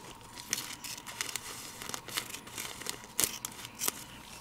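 Scissors cutting close to a heat-fused seam in plastic sleeves, several crisp snips mixed with crinkling plastic, close and fairly quiet.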